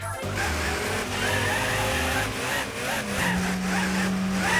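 Car engine in the video game Gran Turismo 4, a continuous synthetic whine with shifting pitch that rises and dips steadily across the clip, with tire squeal accents.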